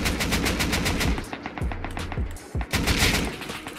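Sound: gunfire in a shooter video game

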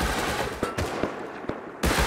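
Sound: gunfire in the video game Rust

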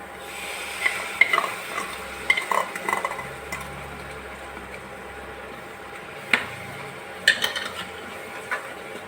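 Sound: stirring tomato puree into frying pav bhaji masala

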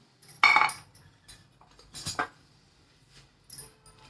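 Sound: stirring dry coconut modak filling in a pan

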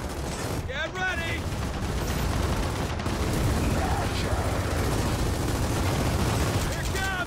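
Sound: gunfire in Gears of War 4 video game

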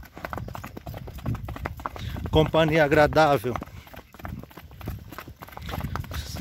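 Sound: horse hooves clip-clopping during a night ride

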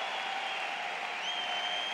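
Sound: tennis crowd roaring and applauding at the US Open

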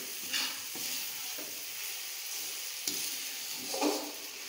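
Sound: masala frying and being stirred in a pan for masala bhindi

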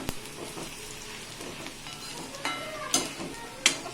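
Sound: dried jawla shrimp frying in oil

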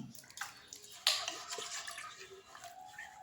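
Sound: scrubbing and washing a black Palakkad clay pot with water

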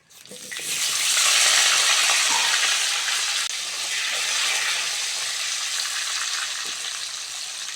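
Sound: potatoes frying in hot oil

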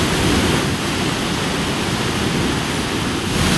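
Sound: ocean waves surging against rocky coast, Asturias

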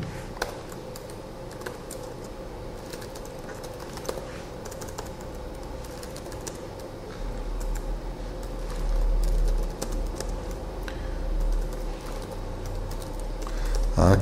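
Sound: typing on a computer keyboard

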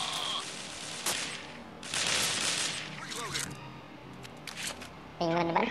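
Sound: M4A1 rifle gunfire in a video game

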